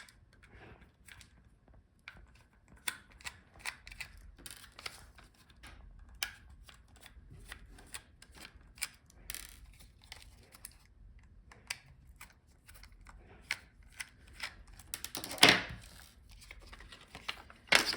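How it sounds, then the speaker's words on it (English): Faint small-screw work on a Lenovo Legion Y740 laptop's hard drive caddy, with light irregular clicks and ticks of a screwdriver turning screws, scattered and quiet throughout, one brief louder rattle near the end. "to take it out, you have to unscrew the screws on the side"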